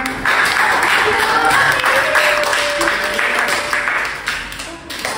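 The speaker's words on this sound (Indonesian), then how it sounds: "Tepuk tangan buat kelompok 3." A burst of group applause in a classroom, many hands clapping together steadily for several seconds before thinning out.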